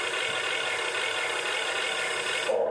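A radio-controlled all-metal HUINA 1580 excavator drives its arm mechanism with a loud, close, steady gear whine and ratcheting whir that runs unbroken for over two seconds, then abruptly cuts off.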